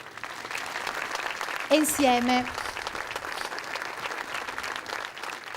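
A dense, steady wash of audience applause at the Premio Navicella Sardegna 2009 award ceremony in Sardinia, holding for several seconds while a voice briefly speaks over it.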